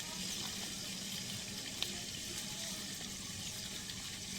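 Tap water runs steadily into a sink while young, tender taro leaves are rinsed and checked for insects, a constant close hiss with one small knock partway through.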